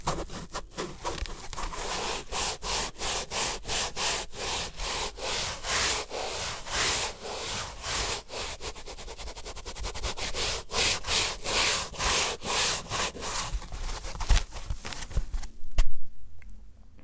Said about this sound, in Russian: еще у нас здесь есть немножко поролона, им тоже можно создать какие-то интересные звуки